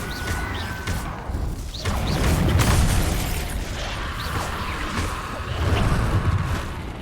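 Incendio fire spell effects in the game Hogwarts Legacy, a run of whooshes, bursts and booming impacts swelling in loud waves amid other spell and combat noises, with no talking.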